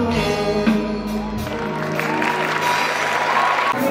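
Audience applause for a doctor at a fashion festival event in Uşak, sustained clapping from a crowd over tonal music that carries on throughout.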